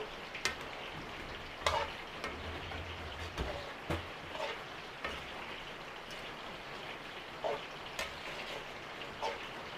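Goat meat dish being stirred in a pot after brown sugar is added, with intermittent scraping strokes and clinks over a soft, steady sizzle, fairly quiet and without talk.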